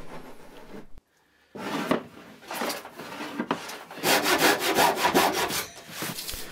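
Hand saw cutting through a soft pine bar-top board, steady rasping push-and-pull strokes close up, a short pause early on, then a faster run of even strokes.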